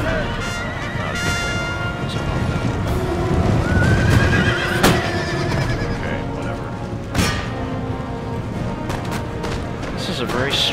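Cavalry horses in an Empire Total War battle neigh and whinny over clopping hooves, with scattered musket gunfire and voices mixed into the loud, busy game soundscape.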